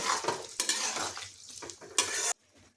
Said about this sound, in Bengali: এখন এটা ভালোভাবে মিশিয়ে নেব